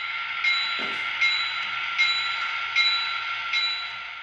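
A model train locomotive coupling to two cars on a siding of a model railroad: a steady electric motor whine runs throughout, broken by several light periodic clicks and one soft low clunk early on.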